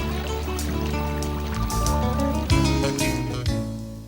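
The San Pedro River in an Arizona riparian area flows with a steady, full rush of water, continuous and close, with no voices.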